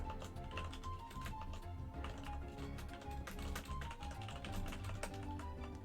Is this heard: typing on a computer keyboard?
yes